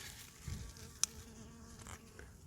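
A bee buzzes faintly among backyard clover flowers, a soft, thin drone close by. A single sharp click comes at the one-second mark.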